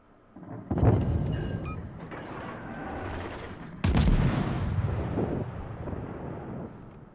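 Destroyer guns firing in World of Warships: two heavy booming salvos a few seconds apart, each followed by a long rumbling roll, close and loud.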